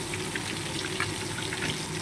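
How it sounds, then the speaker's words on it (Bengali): Small hilsa fish frying in hot oil, giving a steady, close crackling sizzle with fine pops throughout and no voices. "এবারে মাছগুলো ভাজা হোক"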